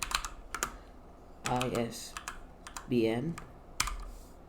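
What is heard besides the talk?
typing code on a computer keyboard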